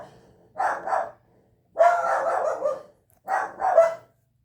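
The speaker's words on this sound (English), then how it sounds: "They're barking at something." A few short bursts of barking from dogs nearby, spaced apart with brief quiet gaps between them.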